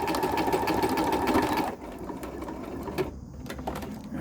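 An embroidery sewing machine stitches jump threads, its steady rapid whir loud and close for a moment before dropping to a quieter, continuous run with a few light clicks.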